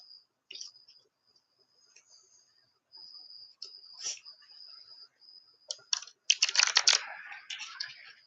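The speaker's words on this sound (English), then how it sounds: "I made enough cards so that I'd be able to shuffle them." Tarot cards shuffled in a rapid ruffling burst of crisp clicks and flutters near the end, after scattered soft card taps over a steady faint tone.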